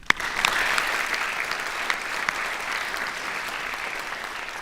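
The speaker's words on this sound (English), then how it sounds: "Please join me in a round of applause for the organizations and the presenters who are here tonight." An audience at a senior honors night applauds steadily, a dense wash of clapping from a large crowd that carries on for several seconds.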